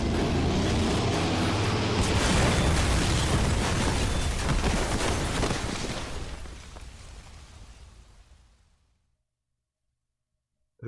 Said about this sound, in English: I think that was like the 10th explosion.